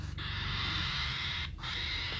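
A cockatiel gives a shrill, sustained screeching call that breaks off twice briefly, fairly close and steady in loudness.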